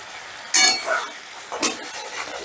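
Ground spices frying in oil for masala paneer, stirred with a utensil: two short scraping, sizzling bursts against the pan over a low background hiss, close and fairly loud.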